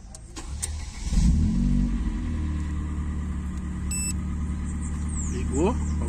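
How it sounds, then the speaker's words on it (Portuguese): A car engine cranks and catches from inside the vehicle, then settles into a steady, close idle rumble, with a short electronic beep sequence partway through. "Bora dar a partida. Peguei a chave lá."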